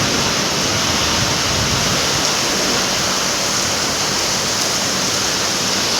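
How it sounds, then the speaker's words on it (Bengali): Heavy rain pours at the Digha seaside, a loud, steady, unbroken roar of falling water that stays at an even level throughout, with no voices. "দেখতে পাচ্ছ কীরকম বৃষ্টি নেমে গেল।"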